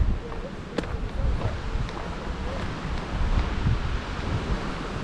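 Steady gusting wind buffets the microphone at a hiking campsite in Shenandoah National Park on the Appalachian Trail, a continuous low rumbling roar with slight swells and faint rustling throughout.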